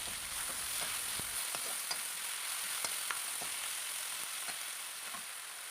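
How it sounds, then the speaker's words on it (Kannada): Tomato frying with ginger garlic paste in a pan, a steady faint sizzle with scattered small pops and occasional light utensil scrapes, no voices. "ನಾನು ಈಗ ಟೊಮೆಟೊನ ಆ್ಯಡ್ ಮಾಡ್ಕೊಳ್ತೀನಿ. ಅದು ಅಷ್ಟೇ ಫುಲ್ಲು ಸಾಫ್ಟ್ ಆಗೋವರೆಗೂ ನಾವು ಇದನ್ನು ಫ್ರೈ ಮಾಡ್ಕೋಬೇಕಾಗತ್ತೆ"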